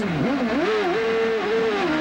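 Onboard engine of a 1995 CART race car at Portland: a loud, close engine note that dips briefly, then revs up and holds high, wavering slightly as the revs rise and fall.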